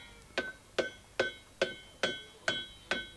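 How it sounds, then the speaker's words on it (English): A farrier at a village smithy hammers red-hot iron into horseshoes: seven sharp, ringing metallic blows land at an even, steady pace, each with a short bright decay, close by and alone with no talk. "hammering the red-hot iron into shape"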